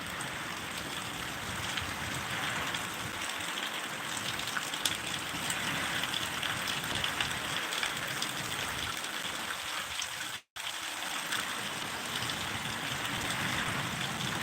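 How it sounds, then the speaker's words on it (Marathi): Heavy, wind-driven rain falls on a village in Kinvat taluka, Nanded district, roaring as a constant loud wash of drops with only a split-second dropout partway through. "हव्याबरोबर पाऊस"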